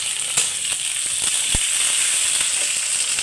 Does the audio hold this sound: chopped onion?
yes